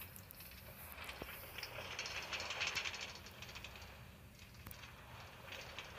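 A light rail train running in the Minecraft video game, a soft hissing, rattling rail rumble that swells and fades with a couple of faint clicks, quiet and with no talk.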